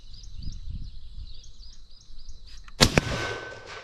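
A single sharp rifle shot cracks loudly at a target, followed by a quick second impact and a decaying echo, after a stretch of quiet outdoor ambience with birdsong.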